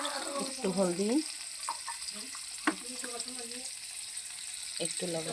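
Potatoes fry in a pan with turmeric and salt, giving a soft, steady sizzle while a person talks over it for the first part.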